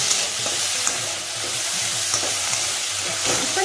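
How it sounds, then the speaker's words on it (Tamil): Lima beans fry with onions in a pan for cabbage fried rice, producing a loud, close sizzle with repeated scraping stirs and clatters. "இப்போ நம்ம வந்து இந்த மொச்சையும் போட்டுக்கலாம்."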